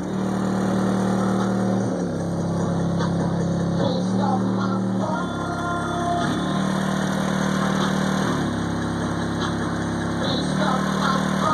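A 1995 Ford Mustang engine runs close by, a steady mid-pitched rumble punctuated by repeated revs every couple of seconds, with no voices.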